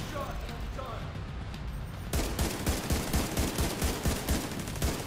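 Rapid gunfire in the video game The Division 2 breaks out after a quieter stretch, dense bursts of shots going steadily for several seconds, with a player's voice over it.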